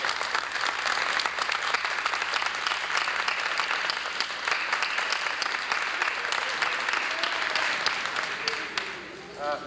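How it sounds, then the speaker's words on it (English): A kindergarten graduation audience gives the teachers a long, steady round of applause, dense clapping with some faint voices mixed in, fading toward the end. "Could we have a fine round of applause for the teachers?"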